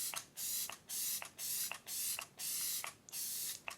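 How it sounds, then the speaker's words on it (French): Kat Von D Lock It setting spray hisses out of its bottle in six short, even bursts separated by brief pauses, close and fairly quiet, with no other sound. "J'applique un coup de spray fixant, pour ça j'utilise mon Lock It de chez Kat Von D."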